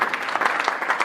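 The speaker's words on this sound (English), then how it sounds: "Let's clap for Jesus." A church congregation claps together during a service, a brief burst of dense, lively applause.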